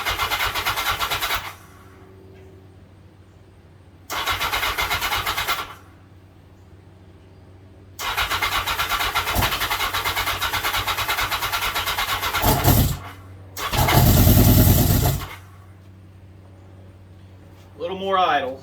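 A Yamaha XJ1100 motorcycle engine cranks and fires in loud bursts separated by quieter idle, with a strong final revving surge near the end; a person talks over the running engine between starts.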